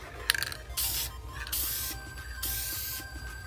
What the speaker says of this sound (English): Start with spraying top down, so you want to coat the whole top surface